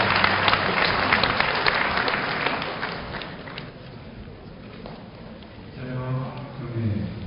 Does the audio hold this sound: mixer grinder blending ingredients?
no